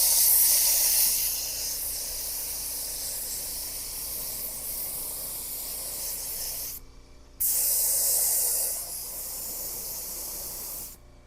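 An HVLP spray paint gun sprays paint in a close, loud, steady hiss that breaks off briefly, then resumes in a second burst before stopping.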